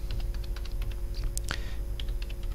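Rapid keystrokes on a computer keyboard as a Cisco configuration command is entered, close and steady, with a quick burst of harder clicks midway and no talk.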